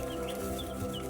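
Young chickens clucking softly on an off-grid homestead while squabbling over a fly, a few faint chirpy calls over low steady background noise.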